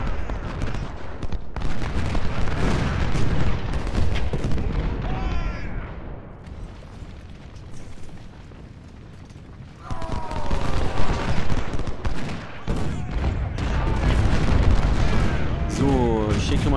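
Battle sounds from the video game Ultimate General: Civil War at Gettysburg: dense musket volleys, crackling fusillades and booming cannon fire, loud and continuous with a brief lull midway, while someone speaks over the action.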